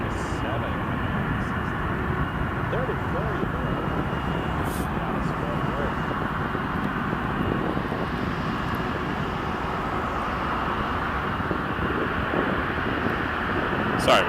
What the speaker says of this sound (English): Canada Cargo 767 coming in